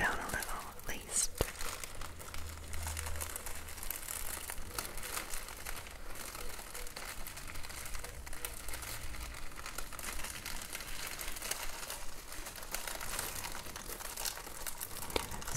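Make-up brush packaging crinkling and rustling close up, soft and continuous, under quiet soft-spoken talk.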